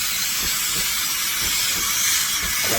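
Steam building up in the wand of a CASABREWS 5418 PRO espresso machine, a steady loud hiss that runs unbroken from start to finish, with soft low bubbling underneath and no voices.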